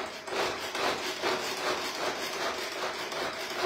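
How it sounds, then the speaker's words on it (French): An onion is chopped in a kitchen, a quick rhythmic series of soft knife strikes against a board, fairly quiet and close, without talking. "je vais juste hacher l'oignon"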